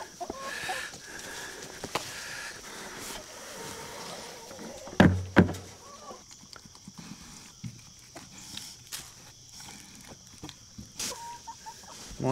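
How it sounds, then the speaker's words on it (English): Faint clucking of several chickens in the background, with a couple of louder bumps and scattered rustling noises. "Look out, chickens."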